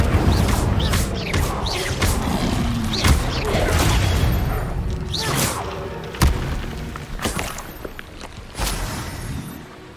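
Spell effects from Hogwarts Legacy, including the Incendio fire spell, sound as a dense run of loud booms, thuds, crashes and whooshes in quick succession through a busy combat mix.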